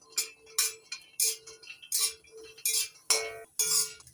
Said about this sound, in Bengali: এবার নাড়াচাড়া করে শুকনো খোলায় ভেজে নিচ্ছি।